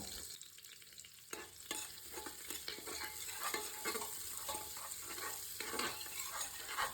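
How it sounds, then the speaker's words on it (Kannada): Onions frying in a pan for hotel-style vegetable pulao, a soft sizzle that swells after a brief quieter start, with repeated stirring scrapes at an uneven pace, fairly faint and with no voices. "ಈರುಳ್ಳಿ ಹಾಕಿದ ಮೇಲೆ ಸ್ವಲ್ಪ ಹೊತ್ತು ಚೆನ್ನಾಗಿ ಫ್ರೈ ಮಾಡ್ಕೋಬೇಕು"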